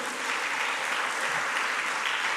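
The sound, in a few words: applause in church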